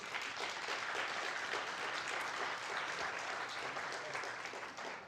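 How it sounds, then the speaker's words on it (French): Steady applause from a conference audience at an international colloquium as panelists walk onto the stage, dense and continuous clapping filling the room for about five seconds without talk. "Donc venez sur scène s'il vous plaît, sous les applaudissements."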